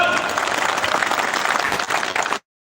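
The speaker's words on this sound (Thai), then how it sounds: "ผมอยากให้ทุกท่านปรบมือให้" Audience applause at a ceremony during an international silk festival in Khon Kaen, a thick steady roar of many people clapping with crowd murmur, cutting off abruptly near the end.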